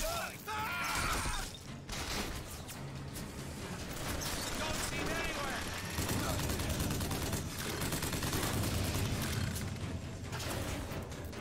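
Gunfire from a Bioshock Infinite fight, sharp shots and rattling weapon mechanisms scattered through a busy, fairly quiet mix with music and game sounds underneath.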